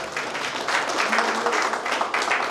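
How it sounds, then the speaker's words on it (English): Applause for Rotarians at a Rotary Club installation ceremony, a dense wash of many hands clapping steadily for a couple of seconds, fairly loud and close. "Claps to all our Rotarians"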